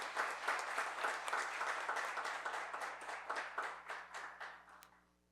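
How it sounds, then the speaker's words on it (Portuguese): An audience at a formal ceremony claps together in dense, sustained applause that fades gradually toward the end, with no voices standing out. "uma salva de palmas"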